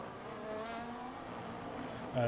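A Formula 1 car engine in the racing game F1 25 holds a steady high-pitched whine, then surges louder near the end as the revs jump.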